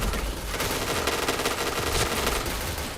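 Rapid automatic gunfire from a shooter video game, with dense, loud bursts of shots firing almost continuously for the full three seconds, close and unbroken, with no voices over it.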